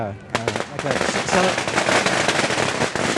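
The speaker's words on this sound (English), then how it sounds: "It seems we have some firecrackers going on." Firecrackers crackle densely at a Chinese New Year parade in Vancouver's Chinatown, a loud rapid barrage of pops over crowd noise, with voices calling out near the start.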